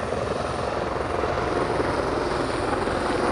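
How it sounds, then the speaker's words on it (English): A helicopter comes in to land, its rotor wash and turbine roar loud, steady and close, with no talking. "Helicopter coming in for landing."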